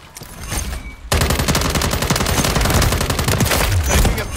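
Rapid video-game gunfire: a quiet lead-in, then from about a second in, loud, sustained automatic bursts and crackling shots pile into a dense, continuous barrage that runs to the end.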